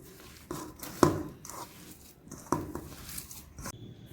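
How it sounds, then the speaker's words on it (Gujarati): Soft squishing and patting of hands mixing pav pakoda stuffing with salt, cumin and green coriander, with a few sharper taps against a bowl at intervals. "હવે આ બધું આપણે હાથેથી પહેલાં મિક્સ કરી લઈશું"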